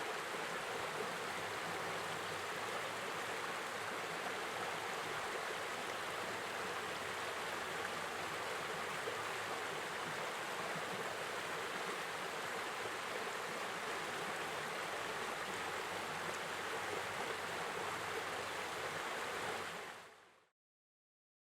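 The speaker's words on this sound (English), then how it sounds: "This is a view of the Tygart Valley River, upstream a short distance from the covered bridge." The Tygart Valley River flows upstream of a covered bridge in West Virginia, giving off a steady, broad rushing wash of water that stays even and unbroken for about twenty seconds before cutting off abruptly.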